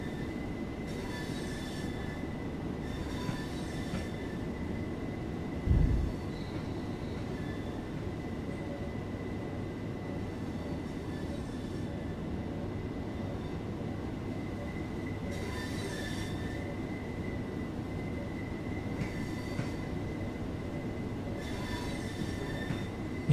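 A train in Train Sim World 2 on the East Coastway rolls along with a continuous low rumble and a steady high wheel squeal, with faint repeated clicks and brief squeal bursts along the way.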